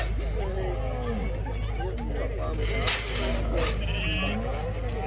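Young female sheep (gimmers) bleat repeatedly from nearby show pens at an agricultural show in Perth, over a steady background of crowd chatter and low rumble, with a brief knock partway through.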